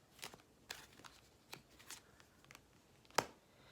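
Tarot cards being shuffled and handled at close range in a quiet room for a general reading: soft, irregular brushing and flicking bursts, with one sharper snap near the end and no talking.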